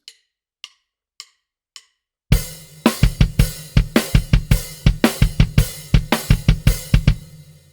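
A steady drum groove: a few soft hi-hat ticks alone, then kick and snare enter, hi-hat on quarter notes and snare on 2 and 4, in a punchy, even pattern, loud and close.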